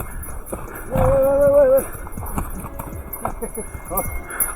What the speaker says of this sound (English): The horse is catching up with me.